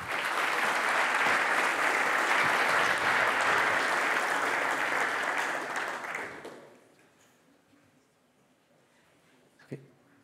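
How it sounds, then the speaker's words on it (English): A large audience at DevFest Nantes, a developer conference, applauds loudly and steadily for about six seconds before the clapping quickly fades to a quiet room, with one faint knock near the end. "sous vos applaudissements, Eduardo"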